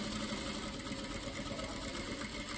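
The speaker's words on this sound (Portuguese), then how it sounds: "agora eu vou rebater essa costura que eu acabei de fazer" A sewing machine stitches two strips of fabric together for a wrap skirt, giving a steady, close, continuous whirring hum without pause or speech.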